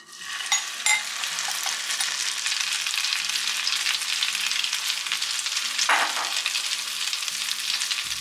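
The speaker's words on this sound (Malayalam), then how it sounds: "ഇനി നമ്മൾ മിക്സ് ചെയ്ത് വെച്ച ബ്രെഡും മുട്ടയും എല്ലാം കൂടെ ചേർത്ത് കൊടുക്കാം." Bread and egg mixture frying in melted butter, giving a steady, close sizzle across the whole stretch with a few soft scrape and stir sounds from a utensil, and no voices.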